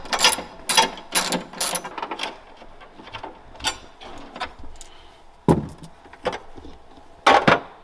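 A ratchet wrench loosens the battery brace bolt on a BMW, giving bursts of quick clicking strokes close by, with pauses and small handling knocks between them.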